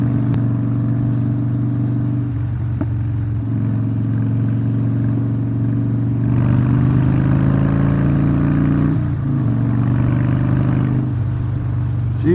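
A Harley-Davidson Breakout Softail motorcycle on a test ride gives a steady, deep, throbbing V-twin rumble. The engine swells as it accelerates partway through, then settles back into a continuous loud drone.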